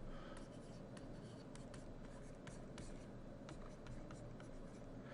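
Pen or pencil writing algebra on a sheet of paper, with steady scratching strokes and short taps running continuously for several seconds, close and fairly quiet, with no talking.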